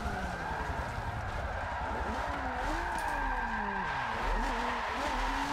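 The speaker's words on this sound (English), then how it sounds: "That's a really long handbrake drag." A drift car with a wheel-mounted camera sliding through a long handbrake drag, its tires skidding and squealing continuously over a loud engine roar that rises and falls.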